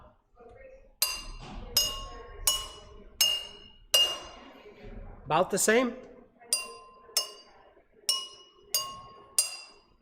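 A spoon taps metal measuring cups in a steady series of bright ringing clinks, with a brief muffled rattle midway and a short question spoken partway through.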